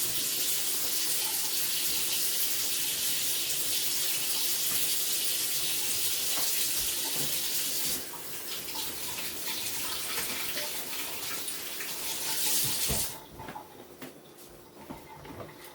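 Tap water running steadily over fresh Sun Sugar tomatoes being rinsed in a kitchen sink, a loud continuous splashing stream that shifts tone as the fruit is moved, then drops away near the end, with no talking.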